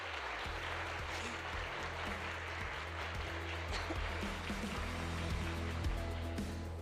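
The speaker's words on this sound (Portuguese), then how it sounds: "Giovana Ventre, do Jurídico do Google, uma salva de palmas." An audience at a legal technology summit applauds as a guest from Google's legal department is welcomed to the stage, a steady faint wash of clapping throughout.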